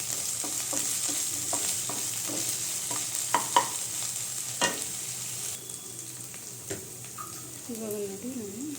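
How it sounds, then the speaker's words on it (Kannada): Coriander and mint frying in oil for chilli chicken are stirred in a pan, a steady sizzle broken by repeated scraping clicks of the spoon, while a person talks over it. "ನೋಡಿ ಇವಾಗ ನಾನು ಕೊತ್ತಂಬರಿ ಸೊಪ್ಪು ಆಮೇಲೆ ಪುದೀನ ಹಾಕ್ತಾಯಿದ್ದೀನಿ. ಚೆನ್ನಾಗಿ ಮಿಕ್ಸ್ ಮಾಡಿ"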